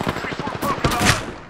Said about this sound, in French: Ça tire là, juste à côté.